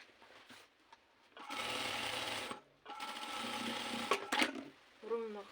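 A sewing machine stitches skirts in two sustained whirring runs with brief stops between, close and fairly loud, with a voice speaking near the end.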